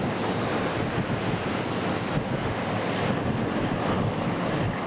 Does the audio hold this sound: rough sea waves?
yes